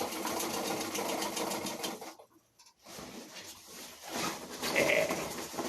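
A treadle sewing machine runs in fast rhythmic stitching bursts while sewing a sacrificial strip onto sail cloth, close and clattery, stopping for a brief pause before starting up again.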